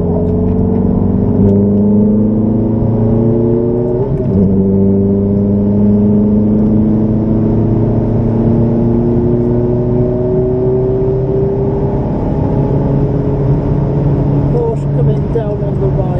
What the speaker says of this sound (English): Wind the wheel, feed power in, accelerate hard.